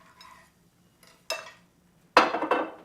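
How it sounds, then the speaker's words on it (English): Knife cutting through simple Gruyere cheese sandwiches on a kitchen board, a faint scrape followed by two sharper crunching cuts, close and loud, with no talking. "I'm just going to cut up these sandwiches"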